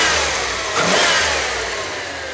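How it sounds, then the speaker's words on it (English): An SUV engine running smoothly at idle, then revving up and settling again, loud and close with no talking. "Just listen to how smooth this engine is."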